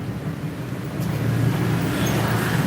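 Motorbikes pass along a roadside street beside a food stall, a low, steady traffic rumble that swells slightly louder after the first second and carries on.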